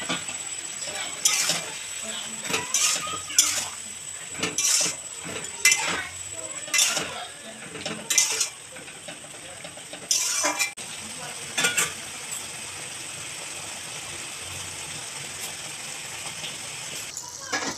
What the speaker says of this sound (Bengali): এটা মোটামুটি 30 সেকেন্ড মতো নাড়াচাড়া করে দিয়ে দেওয়া হলো আগে থেকে ভেজে রাখা চিকেনের পকোড়াগুলি